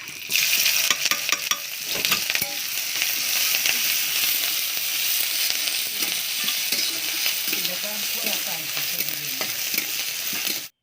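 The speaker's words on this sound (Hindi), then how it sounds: "और इधर हम बंदा गोभी को फ्राई करेंगे" Shredded cabbage (banda gobhi) fries in a hot kadhai, giving a loud, steady sizzle and hiss with occasional scraping stirs, continuous and close throughout.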